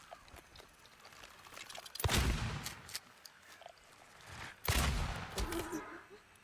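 A shotgun fires in the video game Silent Hill 2 Remake, two loud, booming blasts a few seconds apart, each with a short decaying tail over a quiet, murky background.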